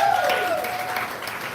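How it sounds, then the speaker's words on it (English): A live poetry-night crowd gives a short burst of applause for a performer, many hands clapping over a faint high tone before the sound eases off. "Clap it up for her."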